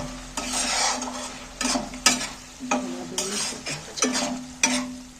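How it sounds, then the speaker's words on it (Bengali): Potatoes sautéing in spices in a pan, stirred with a utensil: a steady sizzle broken by repeated scraping strokes against the metal, close and moderately loud, with no talking. "দেখো আলুগুলো মশলাতে ভালো করে কষা হয়ে গেল"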